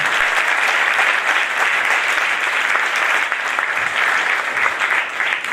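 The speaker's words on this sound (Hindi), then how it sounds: "खुदा यीशु मसीह के लिए जोरदार तालियां" A church congregation in Karachi applauding loudly during a first-anniversary service, a dense, steady wash of clapping hands that stays strong for the whole stretch with no talk over it.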